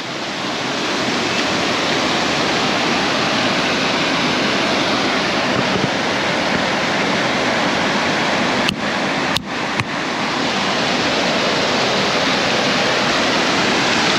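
River water rushes in a loud, continuous broadband roar during a bicycle river crossing, with a few brief clicks or knocks partway through.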